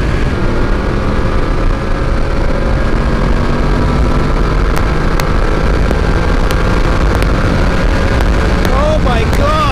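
Yamaha VMAX motorcycle engine while riding, a loud continuous drone with rising and falling revs, heavy wind rush over it and a voice talking near the end.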